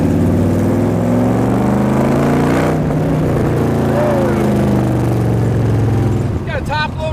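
A 1965 Shelby 427 S/C Cobra continuation with a 1963 427 V8 on dual quads rumbles loud and close at a steady idle, its deep tone wavering slightly before easing off near the end.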